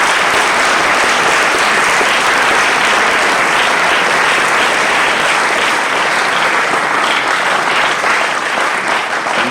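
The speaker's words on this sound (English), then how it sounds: "I think they deserve a big round of applause." Sustained, dense applause from a crowd honoring performers standing on stage at a college freshers' day event, loud and steady throughout with no talk over it.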